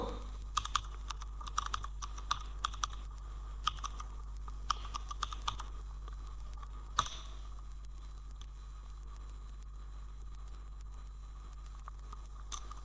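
Quiet, close keystrokes on a computer keyboard tap out a website address in irregular bursts, with a single sharper click partway through and then a lull with faint background hum.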